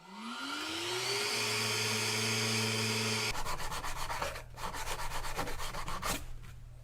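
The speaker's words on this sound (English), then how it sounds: "The epoxy is set up nice and hard overnight, so now I'm going to give it all a sand back." Cured epoxy on wood being sanded back with a power sander. It whines up to a steady drone, then shifts to a rapid, rough, pulsing scratch of abrasive on the hard surface, loud and close with no talk.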